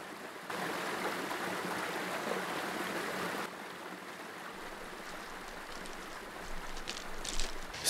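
A river flows steadily along a walking route in North West Cork, with a broad rushing wash that fills the first few seconds, then drops to a softer trickle with light splashes near the end as a hiker wades across.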